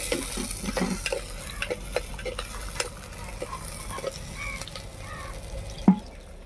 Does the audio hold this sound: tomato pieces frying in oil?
yes